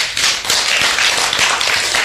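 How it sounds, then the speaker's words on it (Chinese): A seminar audience at a public-speaking course claps in encouragement. The applause is loud, close and steady, with many hands beating together in a rapid, continuous patter. "掌声鼓励一下"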